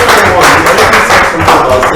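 Audience applause in a workshop session fills the whole stretch, dense and steady, with voices mixed in.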